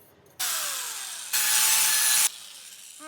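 Sanding an aluminum baseball bat with 400-grit sandpaper produces a steady, close scraping rasp in two sustained strokes, the second louder, with no talking.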